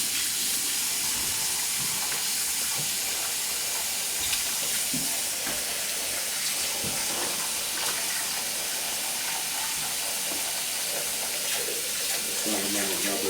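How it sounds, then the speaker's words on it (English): Hot water runs steadily from a faucet in a house under a property inspection, a continuous broadband hiss and splash throughout, with faint voices and small knocks in the background. "Also, your hot water coming up here is real slow."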